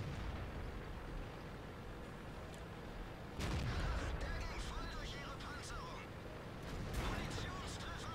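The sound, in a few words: Leopard 1 tank ammo rack exploding in a video game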